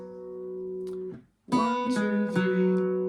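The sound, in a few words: Irish bouzouki playing a jig phrase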